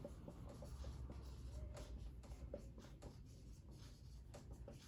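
Chalk or marker scratches out short strokes on a board during a Hindi physics lesson on laws of motion, steady quiet scraping with taps and pauses throughout and no speech.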